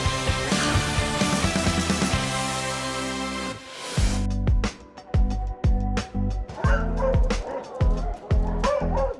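Dogs at a large animal shelter bark and yip repeatedly, several animals loud and close, with whimpers between bursts and a dense background of kennel noise.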